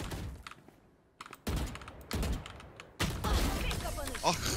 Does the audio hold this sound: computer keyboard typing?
yes